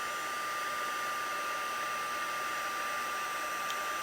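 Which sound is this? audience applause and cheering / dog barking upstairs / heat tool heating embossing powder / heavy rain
heat tool heating embossing powder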